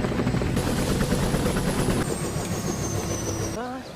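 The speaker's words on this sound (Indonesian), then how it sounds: "mereka menumpang helikopter untuk menempuh jarak 100 km menuju pedalaman hutan Papua Barat" A helicopter carries passengers about 100 km into the West Papua jungle interior. Its engine and rotor roar is loud, close and steady the whole time.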